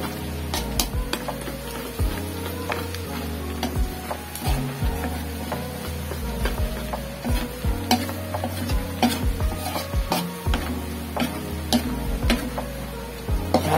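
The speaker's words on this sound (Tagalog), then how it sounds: "Lulutuin lang natin yung bawang." Garlic frying in butter in a pan for a seafood Cajun dish, a steady close sizzle with repeated scraping and stirring knocks of a utensil against the pan, no talk.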